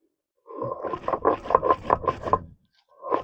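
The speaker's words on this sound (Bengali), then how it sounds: "এবার বেটে নেবো আমি জিরে আর শুকনো লঙ্কা।" Cumin and dried chillies are ground by hand on a stone. About six rhythmic rubbing, scraping strokes sound close and clear, then a pause before another stroke begins.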